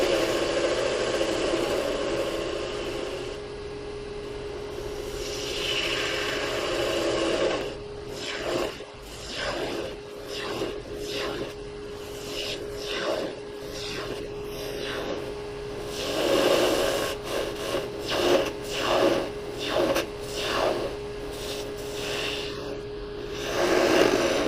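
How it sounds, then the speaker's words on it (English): A spindle gouge cuts a small wooden Christmas tree on a spinning lathe, a steady motor hum under a series of rough, pulsing cutting bursts that grow louder toward the end. "I usually start the spindle gouge work right about here"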